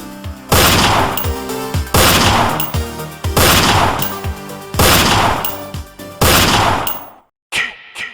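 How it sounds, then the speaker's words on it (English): Five loud gunshots ring out at a steady pace, the last rounds of a gun fired as a sound effect in a horror audiobook, each a sharp blast with a ringing tail, followed by a brief silence and a smaller clatter. "Quentin shot the last 5 rounds in the gun at Art and reacted"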